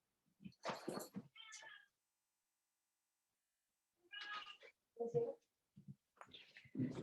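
A house cat meowing loudly indoors in several separate bursts, with long quiet gaps between the calls.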